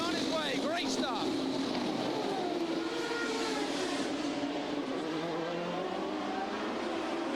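A Champ Car race car at the 2003 London round accelerating out of the 35 mph pit lane, its engine rising in pitch then holding a loud, strained high roar, with a commentator talking over it.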